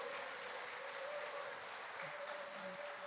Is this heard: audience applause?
yes